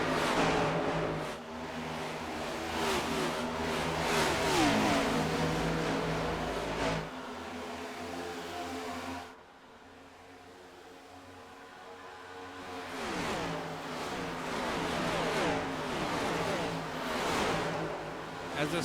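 Race cars in an ISRL race at Las Vegas accelerate around the track, a continuous engine roar that drops away briefly before building again as the pack returns.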